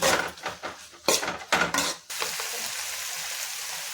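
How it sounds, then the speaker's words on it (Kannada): Spices dry-frying in a pan on a home stove, with a few sharp scrapes and clinks of a spoon against the pan, then a steady continuous sizzle carrying on alone. "ಆ ಸ್ಮೆಲ್ ಬರಬೇಕು, ಅಲ್ಲಿವರೆಗೂ ನೀಟಾಗಿ ಚೆನ್ನಾಗಿ ಹುರ್ಕೊಳ್ಳಿ"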